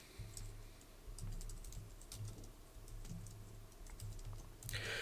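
Code being typed on a computer keyboard while writing JavaScript animation code: a steady run of light clicky keystrokes, close and moderately quiet, with a brief louder burst near the end and no talk.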